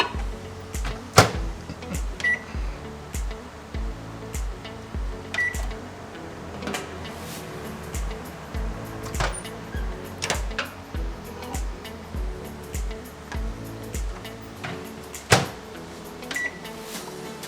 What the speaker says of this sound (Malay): So kita microwave dia for 30 second.